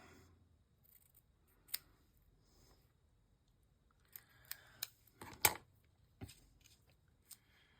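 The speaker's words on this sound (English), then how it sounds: "I'm cutting it over there so all my paper winds up on the edge." Scissors snipping through paper craft tags on a work table, a handful of sharp, close cuts spread irregularly across the stretch with quiet pauses between them, and no talking.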